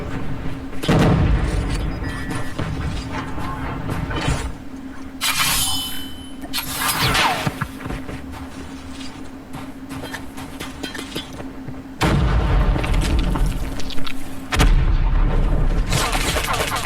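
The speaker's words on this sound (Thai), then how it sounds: "โอ้ยระเบิด" Explosions and gunfire in the Call of Duty Mobile battle royale game, with heavy booms and bursts of shots in several loud blocks separated by quieter stretches of game noise.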